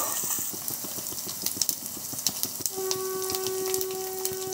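Garlic, dried red chillies and curry leaves frying in hot oil for an Andhra-style sambar tempering, a steady close hiss with faint crackles and pops, joined partway by a sustained whistling tone.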